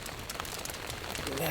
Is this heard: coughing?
no